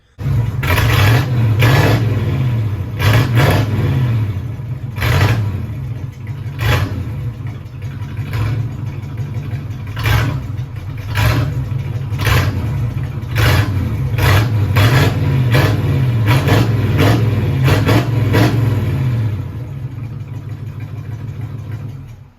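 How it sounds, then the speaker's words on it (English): A 1981 Pontiac Trans Am engine, just pulled out of a garage, revved hard again and again: a rough idle punctuated by about a dozen sharp throttle blips, loud and close, with no talking. "I literally just have a video of me revving the shit out of this when I pulled it out of the garage"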